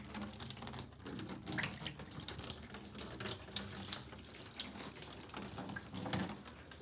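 Tap water pours steadily onto an uncoated, untreated surface during a ceramic spray test, a continuous close splashing hiss with no voices.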